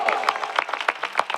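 A Christian congregation at a Christmas service claps in praise, sharp rhythmic hand claps in a steady beat of roughly five per second, loud and close in a room with slight echo.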